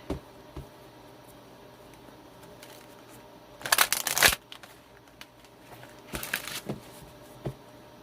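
Oracle cards are shuffled for a reading, two distinct bursts of crisp riffling close up, each lasting about half a second, separated by quiet with a few light taps.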